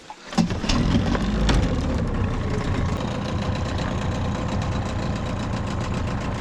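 An outboard motor runs on a fishing boat on the Pechora river, a loud, close, continuous engine drone with a few sharp knocks near the start.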